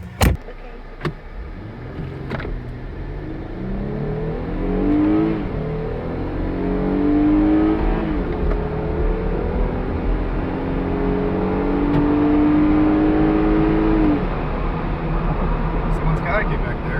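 A Jeep Gladiator accelerates hard from a standstill in a 0-60 run with doors and roof off, the engine note rising steadily through several gear changes and staying loud and close for the whole stretch.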